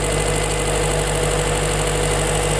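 A Honda Civic EF engine idles low and steady, a close, loud, even hum with a faint rhythmic knock running through it and no change in pitch, with nobody speaking.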